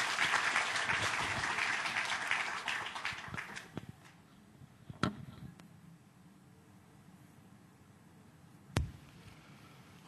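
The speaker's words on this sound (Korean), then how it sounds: "박수 부탁드립니다." A church forum audience gives a burst of steady applause that fades out after a few seconds, followed by near quiet broken by a couple of isolated knocks.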